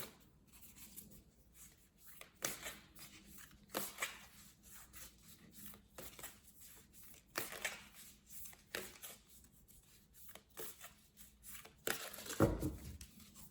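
Quiet, intermittent riffling and slapping of cards being shuffled, in irregular bursts with a louder flurry near the end.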